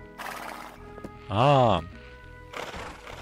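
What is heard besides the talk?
horse neighing in the video game My Time at Portia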